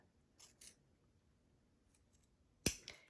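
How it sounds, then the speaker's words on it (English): Scissors snip through material being trimmed for a punk boot zip bag: two quiet cuts early on, then a louder, sharper close snip near the end, with near silence between. "Now, I am going to trim, see these lines?"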